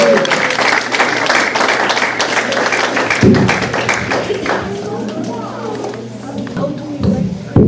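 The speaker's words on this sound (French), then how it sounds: "Nous allons l'applaudir pour l'encourager." Steady applause from an audience at a talk fills the space, a dense wash of clapping that continues for several seconds before thinning out.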